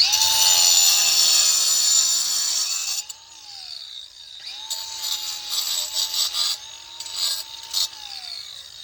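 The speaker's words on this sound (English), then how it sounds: "So I'm just using a grinder with a 4-inch diamond blade," An angle grinder with a 4-inch diamond blade cuts stone veneer: a loud, steady high whine for about three seconds, then a string of shorter, uneven cutting bursts.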